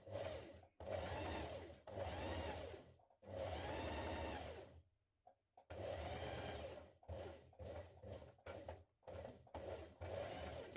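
A sewing machine stitches a dart in fabric for a summer blouse. It runs in several bursts of rapid, even mechanical stitching, close and clear. Short pauses fall between the runs, with quicker stop-start stitching near the end.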